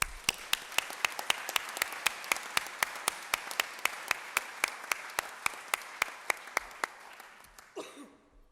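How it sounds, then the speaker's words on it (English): Steady rhythmic clapping from a conference plenary session audience, evenly paced beats over a wash of applause that fades out at the end. "please join me in a round of applause to all the volunteers"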